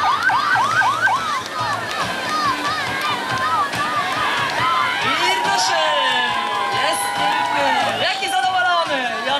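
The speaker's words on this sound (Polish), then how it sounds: "Ty słyszysz, oni gardła się zdzierają." Loud crowd at a Polish freestyle championship in Kraków, people cheering, whistling and shouting with rising and falling yells, close and energetic, with voices talking over the din.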